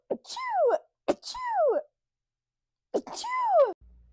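Three sharp sneezes in a sneezing fit, each a quick intake followed by a loud falling burst, close and clear with short pauses between.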